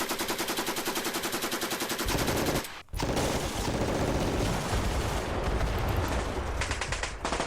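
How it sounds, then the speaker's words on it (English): Heavy guns fire in the Panzer Campaigns Kiev '43 wargame: a rapid, loud, continuous burst of machine-gun-like shots, a brief pause, then dense overlapping gunfire and booming volleys with no talking. "he's firing with some heavy guns there"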